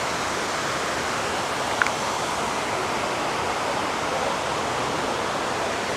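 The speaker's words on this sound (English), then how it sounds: "Rushing water here, one of the largest man-made waterfalls in America." Water rushes steadily down the large man-made waterfall at the 9/11 memorial in New York, a loud, even, broadband roar with one brief faint click partway through and no voices.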